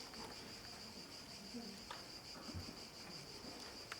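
Cicadas chirp in a faint, steady high-pitched drone on a summer night outdoors, with a few soft scattered knocks and no talking.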